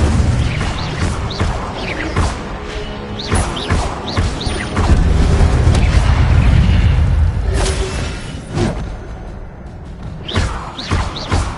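The Incendio fire spell in the video game Hogwarts Legacy, cast amid combat, gives a dense run of loud booming bursts and crashing impacts that roll on for about twelve seconds without pause.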